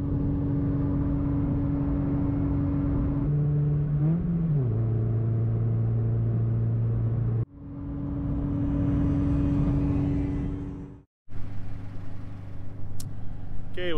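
A Scion FR-S / Toyota GT86 drives on a highway at night, its engine droning steadily with shifting tones as it speeds up, broken by two brief cutouts, then resuming loud and close.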